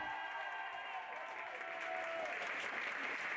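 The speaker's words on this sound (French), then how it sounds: "Et vous pouvez les applaudir bien fort," Applause from an audience at a youth and senior equestrian TREC club awards ceremony, a steady wash of clapping holding at an even level for the whole stretch.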